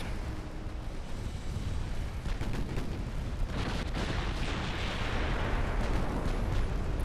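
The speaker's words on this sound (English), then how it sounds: "those 5-inch guns are doing the work" Naval gunfire from a Super Tirpitz battleship in a video game, its 5-inch guns firing: a dense, continuous barrage of booms and blasts with overlapping bursts and no clear pause between shots.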